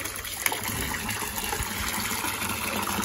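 Water pours and gushes steadily while a child is bathed with shampoo, a continuous close splashing flow with a brief louder splash near the start.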